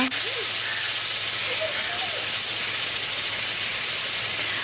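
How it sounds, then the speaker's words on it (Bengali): Coriander, ginger and tomato pastes go into a pan of onions fried until reddish, setting off a loud, continuous sizzling hiss that holds steady after a sharp start. "এখন আমি এর মধ্যে দিয়ে দিচ্ছি ধনে বাটা এবং আদা বাটা, আর দিয়ে দিচ্ছি টমেটো বাটা"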